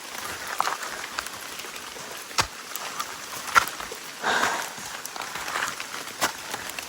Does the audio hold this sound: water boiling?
no